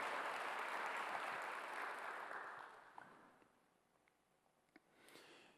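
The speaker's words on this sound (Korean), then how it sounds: "믿는 사람만 박수하세요." A church congregation at a Sunday service claps together, a broad wash of applause that swells, fades after a few seconds into quiet room tone, then leaves a few scattered claps.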